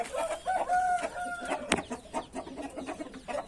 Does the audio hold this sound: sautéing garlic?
no